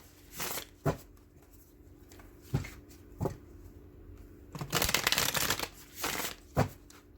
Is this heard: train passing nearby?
no